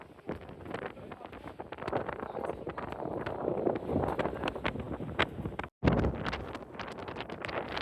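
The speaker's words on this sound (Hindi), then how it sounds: "आप देख पा रहे होंगे वीडियो में कितनी तेज़ हवा है।" Strong wind on Girnar hill near the Ambaji temple, roaring and buffeting against the microphone in a loud, continuous rush with gusty swells and a brief dropout.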